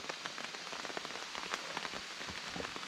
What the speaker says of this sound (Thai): ตอนนี้ฝนก็ตกครับทุกคน